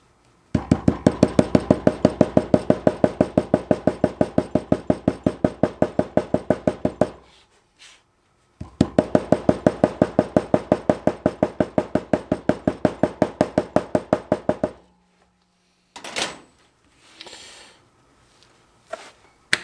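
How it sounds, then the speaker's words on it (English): Rapid, even hammer blows flatten the stitch line of a handmade leather wallet, two long runs of dozens of crisp close taps separated by a pause, then a few scattered knocks and handling noises. "you'll see me hammer the stitch line down"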